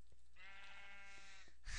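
A sustained wavering sheep bleat lasting over a second in a sheep-herding video game, clear and close, followed by a brief noisy burst of game sound.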